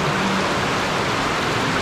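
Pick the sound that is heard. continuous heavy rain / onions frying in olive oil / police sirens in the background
continuous heavy rain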